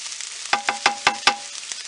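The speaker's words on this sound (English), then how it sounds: "Garlic and the white scallions on medium with more olive oil in the same pan as before." Garlic and white scallions sauté in olive oil over medium heat in a pan, a steady close sizzle broken by five sharp, evenly spaced scraping stirs.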